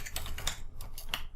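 A computer keyboard being typed on in quick, uneven bursts of crisp clicks, close and moderately loud, with no voice.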